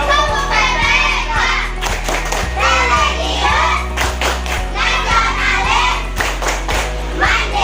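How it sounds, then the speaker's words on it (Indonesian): Children chant the Tepuk PPK together in a classroom, clapping their hands in a steady rhythmic pattern between the spoken words, loud and close, with their voices running throughout. "kita lakukan tepuk PPK dulu"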